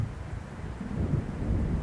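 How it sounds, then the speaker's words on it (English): Low rumbling thunder of an approaching storm in the video game Alan Wake Remastered, a continuous deep roll swelling slightly louder midway, with wind-like noise and no talking. "It seems there's a storm coming."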